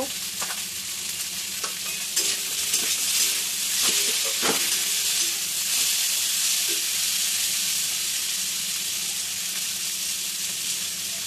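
Potatoes frying in fish oil in a pan hiss and sizzle steadily and loudly, with occasional clicks and scrapes from stirring, and no voices.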